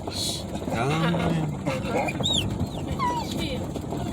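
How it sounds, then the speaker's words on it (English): A dog on a boat road trip whines and gives thin, rising yelps in short bursts, heard up close over steady engine and water noise while people talk nearby. "People don't want to hear about you yapping and whining."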